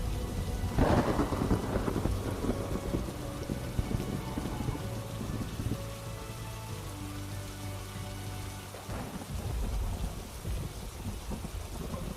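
Heavy rain pours steadily in the Murder Diaries video game, with rumbling thunder rolling in twice, near the start and again late, over a low droning musical score.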